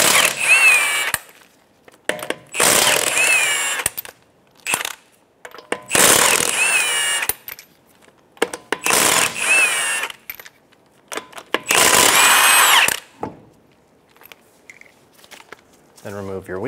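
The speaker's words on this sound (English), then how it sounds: "I'm going to remove my 5 lug nuts." A power tool with a 19 mm socket spins off the wheel lug nuts on a 2012-2016 Subaru Impreza. There are five loud, close whirring bursts with short pauses between them.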